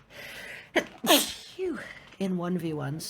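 A single sharp sneeze bursts out close to the microphone, followed right away by a person's speech.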